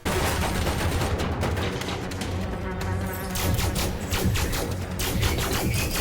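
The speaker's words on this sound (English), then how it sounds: "Seeing these guys getting chased out of the settlement, taking fire, and getting grenades thrown at them is great to see." Dense, continuous gunfire crackles through a firefight at a settlement in the video game Elite: Dangerous Odyssey, with rapid repeated shots and bursts layered over a steady loud battle din, with no separate speaker.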